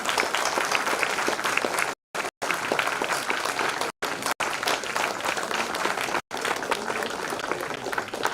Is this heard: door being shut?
no